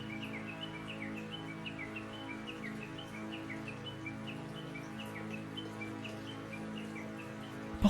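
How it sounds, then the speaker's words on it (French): Birds sing in a calm outdoor setting, several repeated chirps and short whistled phrases spread evenly over a soft, steady background, moderately faint and with no voices. "Des oiseaux."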